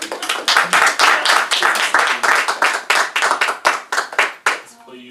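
An audience at a gathering with a lama claps along in a rhythmic, loud burst of hand claps, the beat loosening into scattered claps that taper off at the end.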